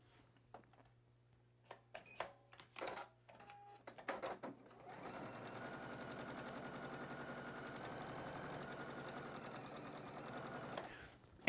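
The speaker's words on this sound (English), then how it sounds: "make sure I'm sewing the center seam together" Sewing machine stitching the center seam of batik quilt squares: a few soft handling clicks and taps, then a steady, rapid mechanical whir and chatter of stitching that runs for about six seconds before stopping.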